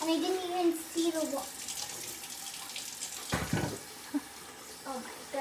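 Water pours steadily from a tap, splashing into a basin, with a person talking over it and a brief louder gush midway.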